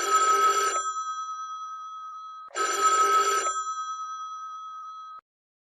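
A telephone bell rings twice, each burst a trilling electronic ring about a second long with a humming tail, separated by a short silence, clear and alone.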